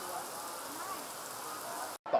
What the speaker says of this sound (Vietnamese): Những cơn mưa xối xả càng nặng hạt, càng nặng trĩu gánh lo âu của người thân đang chờ.